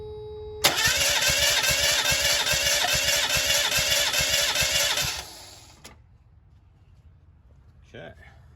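A Mazda MX-5 Miata engine cranks over for a compression test, a loud, rhythmic chugging of the starter lasting several seconds before it cuts off abruptly, followed by quiet and a brief voice.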